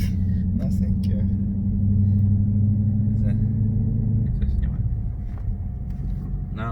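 Deep, steady exhaust rumble from a muffler-deleted car, Dodge Challenger or Cadillac Escalade, droning loudly inside the cabin before easing into a lower idle, with talk over it.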